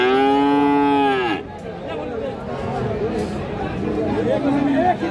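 A Friesian heifer calf at a cattle market moos once in a loud, long, falling call at close range, followed by steady crowd chatter and market bustle.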